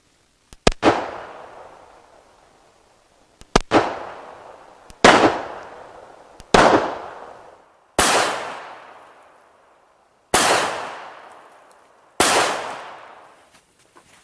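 Seven sharp gunshots from a Bersa Thunder .380 pistol ring out at irregular intervals of one to two seconds on an outdoor range, each a loud crack with a short decaying echo.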